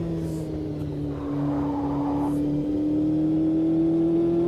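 A race car engine in Automobilista 2 drones steadily in second gear under full throttle, straining and failing to gain revs, a constant strained hum with no talk.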